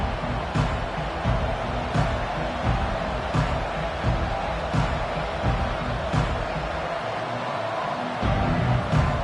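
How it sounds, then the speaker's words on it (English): A stadium crowd in the NCAA 25 football game roars in a dense, sustained wash, with faint rhythmic thumps repeating under it. "This crowd, full throat, spreading the eardrums"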